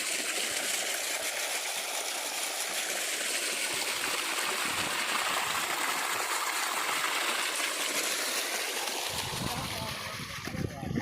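Water from a solar-pumped borehole flows steadily along a ground channel, a continuous broadband rush and trickle holding at an even level, with a brief louder disturbance near the end.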